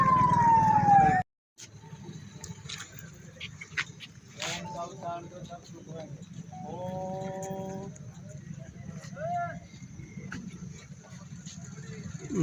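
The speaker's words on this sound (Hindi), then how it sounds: "देख सकते हो आप एम्बुलेंस को रास्ता देते हुए सभी भर्ती कर्मी।" An ambulance siren wails briefly at the start, loud and near, as it passes through a protest blockade on National Highway 352 at Julana. Crowd voices, vehicle horns and road noise follow.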